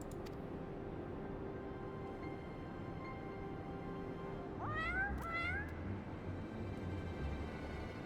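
A cat meows twice in quick succession over a quiet, faintly humming game soundtrack, two rising, wavering calls close by and fairly soft.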